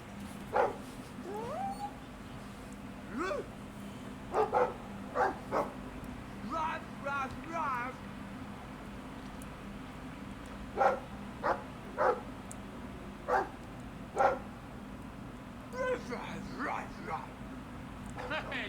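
A Mabari war dog in the video game Dragon Age II barks and whines in short bursts, scattered through the stretch, mixed with game voices speaking.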